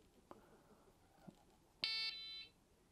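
A fishing bite alarm app sounding a beep as a spinning roller turns: a few faint clicks, then one loud electronic buzz-beep lasting about half a second.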